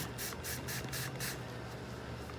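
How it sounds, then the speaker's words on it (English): A series of quick spritzes from a spray bottle of denatured alcohol, about six short hissing bursts in a rapid rhythm, close by, over a low hum. "I keep my denatured alcohol in these isopropyl alcohol spray bottles"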